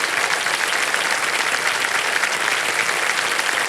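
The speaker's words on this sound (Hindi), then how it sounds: "तालियां बज जाएं इनके लिए" Steady, dense applause from the KBC studio audience fills the set, an even wash of many hands clapping without a break.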